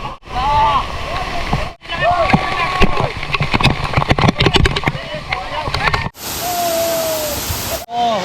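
Powerful waterfall in the Mahendragiri Hills, Odisha, roaring loud and close with continuous heavy rushing water, briefly cut off and resuming, with a voice speaking over it.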